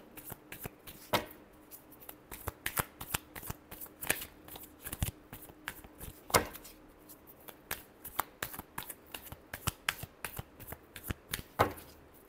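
A deck of playing cards shuffled by hand during a tarot-style reading, sharp riffling bursts and card snaps in an irregular rhythm, close and crisp against a quiet background.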